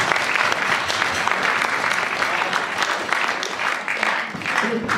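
Guests at a bar mitzvah give a warm round of applause, steady dense clapping close by that carries on without a break for several seconds.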